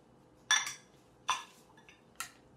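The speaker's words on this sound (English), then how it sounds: "And our mozzarella cheese. And we're just going to stir it in." A utensil stirs mozzarella cheese into ravioli lasagna in a pan, making three sharp metallic scrapes and clinks spaced about a second apart, close and otherwise quiet.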